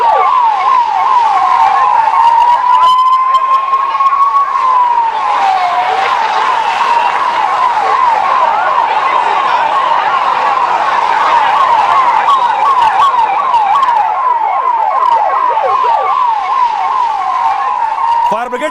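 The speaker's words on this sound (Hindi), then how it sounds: "फौरन फायर ब्रिगेड को बुलाया गया मौके पर, क्योंकि पहले से दमकल की गाड़ियां वहां मौजूद थी" A loud fire engine siren at a fire at the Maha Kumbh Mela wails continuously, sweeping up and down in a fast repeating pattern, close and dominant throughout.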